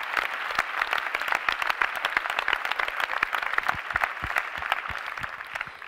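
A crowd at a Podemos political team presentation in Spain applauds steadily, dense clapping with distinct sharp individual claps standing out, sustained at a moderate level and tapering slightly toward the end.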